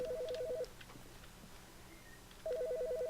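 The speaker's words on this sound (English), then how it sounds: "There's a phone ringing." A phone rings in The Stanley Parable video game: two clean electronic trilling rings, one at the start and another after a pause of nearly two seconds, over quiet room tone.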